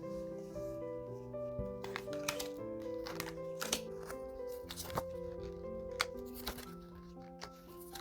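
Tarot cards are shuffled by hand in quiet, repeated soft riffles and taps, with scattered crisp clicks over a low background hum and no talking.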